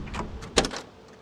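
A car door on a 1965 Ford Mustang Fastback GT opens with a single close latch click and a short mechanical clunk, heard on its own without talk.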